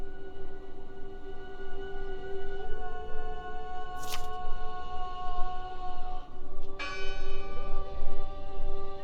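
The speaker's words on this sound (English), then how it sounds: "Listen! The bell!" A church bell tolls in the horror game Draugen, sustained ringing tones hanging over a dense, rumbling ambient backdrop, with a couple of sharper strikes standing out partway through.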